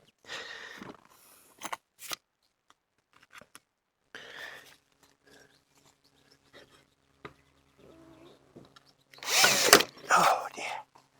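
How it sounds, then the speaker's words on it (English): A power drill drives screws into timber shed cladding outdoors under trees, heard in several short whirring bursts with quiet pauses between, the loudest burst near the end. "we'll secure this end with some screws."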